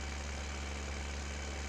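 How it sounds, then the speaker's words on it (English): A farm tractor engine idles at harvest time, a steady low mechanical drone with a faint knock, continuous and close, with no voices over it. "So I'll just get the tractor back to"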